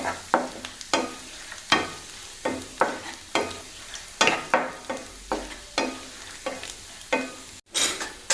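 Parippu payasam being stirred in a pan over a low flame, a close series of regular scraping strokes about once a second over a soft background sizzle, with no talk.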